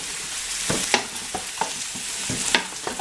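Beef bourguignon, with flour just added, sizzles in a pot as it is stirred, a steady close hiss broken by regular soft scraping strokes of the spoon.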